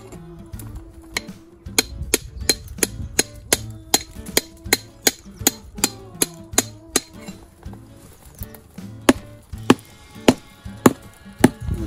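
Hammer blows on hard rock at the Middle Peak Quarry while rockhounding, a steady series of sharp metallic strikes roughly two per second, close and loud, breaking the stone into small crystals, with no talking.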